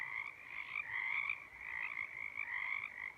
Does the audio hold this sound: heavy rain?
no